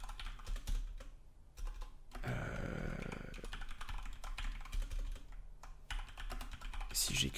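Someone types C code on a computer keyboard while setting up Visual Studio Code. The key clicks come in quick bursts, with a denser flurry of taps in the middle. The sound is close but quiet, and there is no talk.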